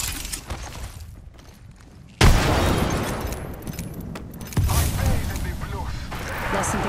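A frag grenade in the battle royale shooter Apex Legends goes off as a sudden, heavy, close boom, followed by a second loud burst. Game voices and speech are heard around the blasts.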